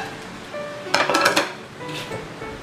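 Chopped vegetables, onions first, tumble into a cooking pot with a short, bright clatter of pieces striking metal, then settle into a quieter rattle and faint clinks.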